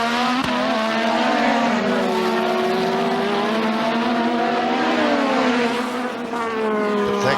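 Formula One race cars at the British Grand Prix at Brands Hatch scream past with high, rising and falling engine whines, loud and continuous, pitch sweeping as they accelerate and shift.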